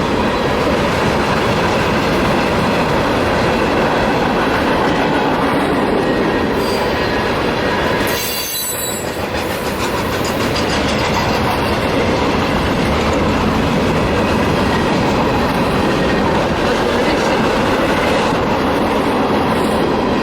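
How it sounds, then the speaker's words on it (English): A long freight train of cargo wagons rolls steadily past close by, a loud continuous rumble with rhythmic clickety-clack from the wheels and brief squealing near the middle. "Bean, it's a train."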